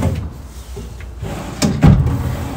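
A drawer in an outdoor kitchen slides and bumps shut with a soft thud, followed by a heavier wooden knock, close by in a quiet setting.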